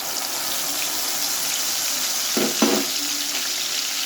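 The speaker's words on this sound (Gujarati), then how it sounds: "હવે જે આપણે આ મસાલો વાટ્યો છે ને એ આમાં નાખી દેવાનો છે" Ground spice paste hits a hot kadai of sautéing garlic for Gujarati vaghareli rotli, giving a steady, close sizzle with a couple of brief stirring scrapes and no talk.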